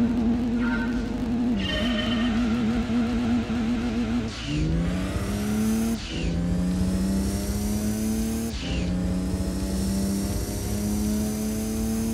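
A race car in Gran Turismo 2 on PS1 accelerates hard from a standing start, its engine note climbing through successive gear changes with brief dips at each shift, loud and continuous throughout, with no talking.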